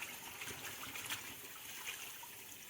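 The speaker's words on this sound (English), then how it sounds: "Then basically doing the same with onions, washing them thoroughly." Steady, faint running water trickling over onions and cucumbers being washed for gazpacho, a soft continuous flow with no talk.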